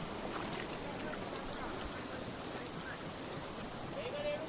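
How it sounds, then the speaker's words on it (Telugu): Water flows steadily at the Kallegaon waterfalls as a broad, constant rushing wash with wind buffeting the microphone and faint voices in the background. "వాటర్ సౌండ్ అయితే, వాటర్ ఫ్లో సౌండ్ అయితే బాగా వినిపిస్తుంది."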